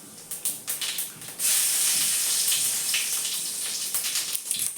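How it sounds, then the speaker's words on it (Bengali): Whole cumin and dried chili sizzle loudly in hot mustard oil. After a few spitting crackles, a sudden surge of hiss settles into a steady, close frying sizzle. "গোটা জিরে দিয়ে দিচ্ছি তেলের উপরে"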